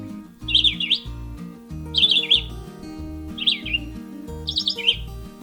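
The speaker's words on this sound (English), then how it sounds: "you press play and it plays the bird song" Recorded birdsong played from a small electronic device in a kids' spring craft setting, four short bright chirping phrases at regular intervals over soft background music, near and fairly loud.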